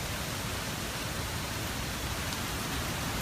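Steady rain during Hurricane Irma in South Florida hisses as a continuous, even broadband wash with no breaks, fairly soft and without any voices over it.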